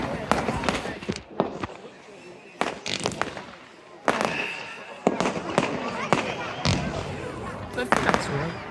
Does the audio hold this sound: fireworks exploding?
yes